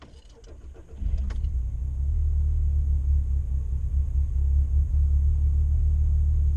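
A 2018 Ford Mustang with worn spark plugs starts up roughly, a brief crank followed by a deep, loud, rumbling idle heard from close by, steady and uneven in the low end.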